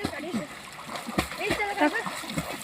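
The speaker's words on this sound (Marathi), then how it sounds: "असं पोहते बघा आमचा कृष्णा विहिरीत" Children splashing as they swim in a newly dug farm well, with bursts of churning water and slaps close by, mixed with kids' voices and shouts throughout.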